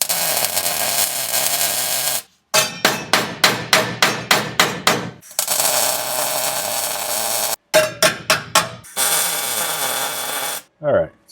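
Steel firewall panel on a 1937 Lincoln Zephyr struck with a hammer in a shop: a loud, steady run of about eight sharp metallic blows, later a few more quick hits among welding hiss and shop noise.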